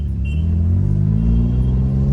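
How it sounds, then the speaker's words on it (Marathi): A car engine hums and rumbles steadily at close range as the car is turned during a driving lesson. "वळवा भाऊ गाडी."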